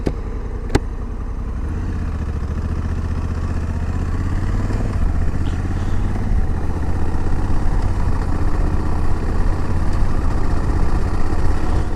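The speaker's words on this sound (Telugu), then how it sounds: "సో ఇప్పుడు నేను లోయెస్ట్ యాక్సలరేషన్లో బైక్ రైడ్ చేస్తున్నా. ఇప్పుడు గేర్స్ అనేది 5 గేర్స్ చేంజ్ అయిపోయినాయి." Honda Africa Twin motorcycle ridden in automatic transmission mode, a steady engine drone heard from the rider's position, with the low hum stepping up in pitch at the gear changes and a faint rush of wind throughout.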